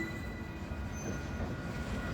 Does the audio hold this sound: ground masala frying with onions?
no